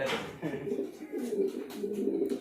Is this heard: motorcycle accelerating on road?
no